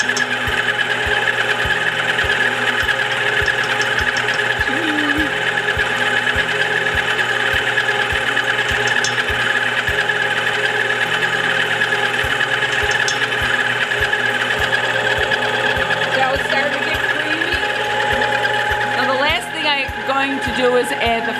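An electric mixer runs steadily while mixing Italian lemon cookie dough, giving a constant mechanical whir with a rhythmic knocking, close by, with someone talking over it throughout.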